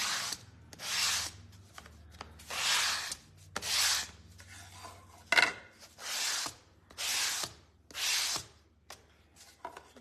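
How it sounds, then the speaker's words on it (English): Sandpaper is rubbed by hand over a wooden craft piece to give it a weathered look, making close, rasping strokes in a steady rhythm of about eight passes with short pauses between them. "I'm gonna sand."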